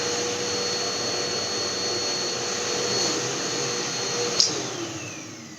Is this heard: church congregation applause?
no